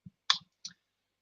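Computer mouse clicking on an on-screen button, two or three short, crisp, close clicks in a quiet room, each sharp and separate, with no talking.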